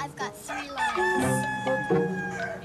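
A rooster crows once, a loud, drawn-out cock-a-doodle-doo close by, with a few clucks around it.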